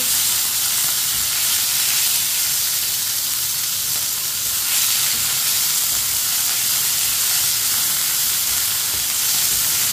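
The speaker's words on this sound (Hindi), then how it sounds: "चिकन डाल लेंगे, मिक्स कर लेंगे।" Chicken pieces sizzle and spit steadily in a hot pan with garlic as they are stirred in, a loud, continuous frying hiss with no voices.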